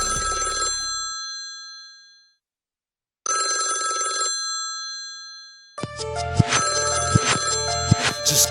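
A telephone rings in two loud bursts separated by a silent pause, then a denser, harsher ringing pattern continues steadily, heard close and alone without any voices.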